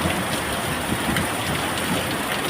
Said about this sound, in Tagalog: biglang buhos yung napakalakas na ulan